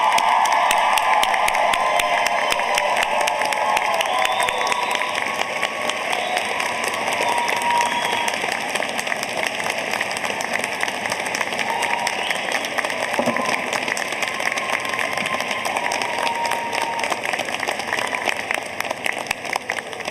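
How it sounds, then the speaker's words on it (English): Sustained, even applause from a large crowd at the MassArt 2025 commencement ceremony, many hands clapping steadily for about twenty seconds with no speech over it. "Nancy, could you please stand so we could recognize you and give you a round of applause?"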